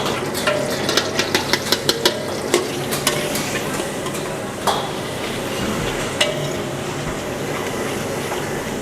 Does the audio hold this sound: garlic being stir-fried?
yes